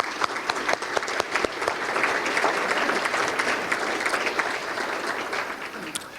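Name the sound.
audience applause at business luncheon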